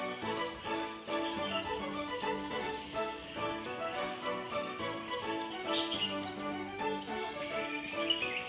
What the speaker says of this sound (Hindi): पीछे से चिड़िया की चहचहाहट आप लोग सुन सकते हैं।